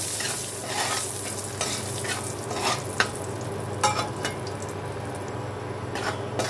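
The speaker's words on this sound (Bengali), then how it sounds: "এখন ফোড়নটাকে আমি 1 থেকে 2 সেকেন্ড একটু ভেজে নেব।" Black cumin seeds and dried red chillies fry in hot oil, a steady close sizzle with occasional taps and stirring clicks, no talking.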